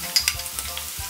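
Garlic and softened onions frying in olive oil in a preheated pan, a steady soft sizzle with a few sharp crackles and light stirring scrapes near the start.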